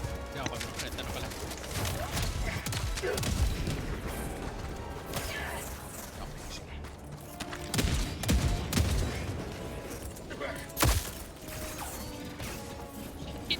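Dense, continuous gunfire from a shooter video game set against an automaton cannon tower. It runs as a loud, cluttered wash of shots and mechanical clatter, with louder bursts and impacts standing out.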